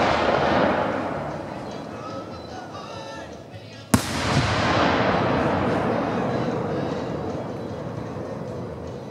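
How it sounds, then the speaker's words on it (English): A Dominator 8-inch firework shell bursts with one sharp, loud crack mid-way, followed by a long crackling, rumbling tail, over continuous background noise from a fireworks display. "Next up is a Dominator 8-inch shell."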